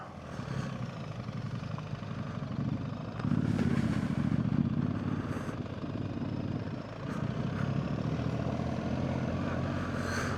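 A BMW R1300GS motorcycle rides off-road along a trail, its engine a steady, fairly loud drone that swells and eases as the throttle changes, heard from on the bike.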